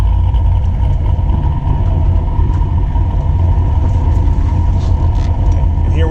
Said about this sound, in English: I'm just going to turn around and go right back down without touching the pedals.